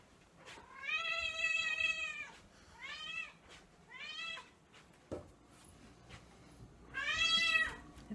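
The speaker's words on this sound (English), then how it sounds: "It's my kitty." A domestic cat meows four times, close and clear: long drawn-out cries with pauses between them, and a faint knock partway through.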